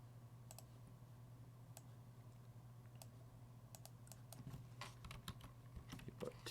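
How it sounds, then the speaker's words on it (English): Coordinates being typed on a computer keyboard, faint clusters of key clicks, sparse at first and then quicker bursts, over a low steady hum. "if I know coordinates, I can type them in here"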